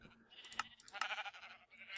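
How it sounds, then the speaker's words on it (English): Several sheep in Minecraft bleat in quick overlapping bursts, the nasal calls fairly faint against a quiet backdrop, with a few clicks scattered between them. "Oh my god, so many sheep!"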